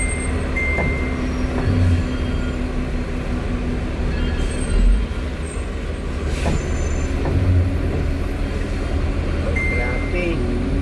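Heavy traffic crawling on a mountain road at Santa Fe, with buses and trucks: a steady engine rumble with air-brake hisses and occasional horn-like tones, loud and continuous throughout, with voices talking over it.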